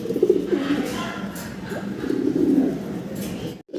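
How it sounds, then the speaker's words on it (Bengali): Andalusian pigeons, a newly paired male and female, cooing in soft repeated low throaty phrases at close range, with faint background noise. "নর এবং মাদি দুইটা কবুতরই হচ্ছে একদম নতুন কবুতর"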